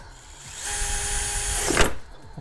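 A drill fitted with a hole saw bites into material with a rising whine for about a second, then stops abruptly, close and fairly loud.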